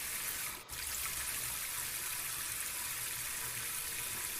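Water runs steadily from a tap or hose during a leak-monitor test, a continuous faint hiss with a brief dip near the start.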